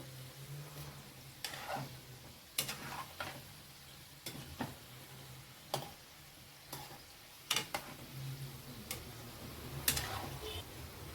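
Sweet modak dumplings deep-frying in oil until crisp, a low continuous bubbling sizzle broken by sharp ticking taps of a utensil at irregular intervals, heard close with a voice talking faintly at times.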